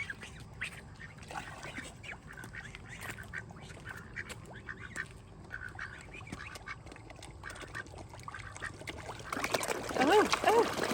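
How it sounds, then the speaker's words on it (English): Ducks and swans being fed at a resort pond, with a busy chorus of quacks and honking calls over splashing water, growing louder near the end while a person talks. "Feeding the ducks and the swans at Taj Madikeri Resort."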